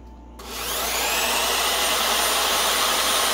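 A WEN portable oscillating spindle sander starts up and runs at low speed, a steady, close, loud whirring hum that rises in under a second and holds evenly, with no talk.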